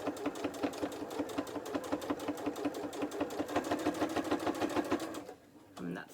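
Close, rhythmic stitching from a sewing machine running at a slowed, even pace along a fat quarter fabric book cover, with regular needle beats that stop abruptly near the end.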